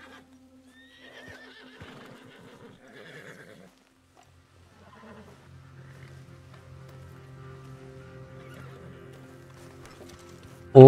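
A horse in the Red Dead Redemption 2 video game moves through a quiet scene with soft hoofbeats, then gives a sudden loud, close whinny at the very end.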